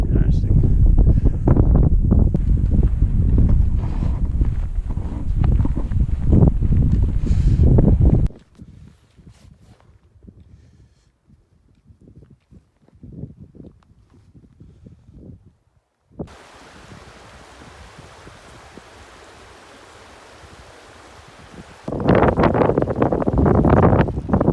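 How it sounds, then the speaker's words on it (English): Strong wind on an exposed ridge along Iceland's Laugavegur hiking trail roars and buffets the microphone in loud gusts, drops to quieter stretches, then surges again at the end. "once we get down over this ridge, the wind will die down"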